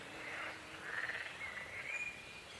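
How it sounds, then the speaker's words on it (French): Toads and frogs croak in a natural outdoor setting, a steady chorus of trilling calls at moderate distance, soft and continuous over faint background noise with no voices. "c'est au tour des crapauds et des grenouilles de s'y mettre"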